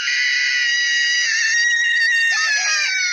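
A girl's long, piercing scream from the horror film Raaz, loud and sustained for about three seconds, wavering and shifting pitch toward the end.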